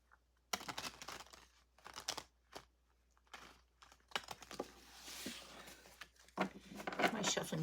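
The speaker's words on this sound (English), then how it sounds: "we're going to do one more shuffle, then we're going to cut the cards and lay them down" Tarot cards being shuffled by hand, a run of papery riffles, flicks and soft slaps in uneven bursts, close and fairly quiet.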